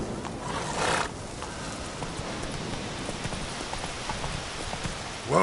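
Roach, a horse in The Witcher 3 video game, gallops with quick, steady hoofbeats over rain-like background ambience. A louder burst of clatter comes near the start and again at the end.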